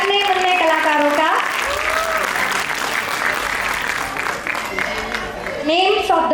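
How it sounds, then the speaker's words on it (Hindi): Crowd applause welcomes a group of young child performers onto the stage for a childhood-themed school show: steady, dense clapping throughout, with a voice talking over it near the start and again at the end. "तो स्वागत करते हैं तालियों के साथ हमारे नन्हे मुन्ने कलाकारों का"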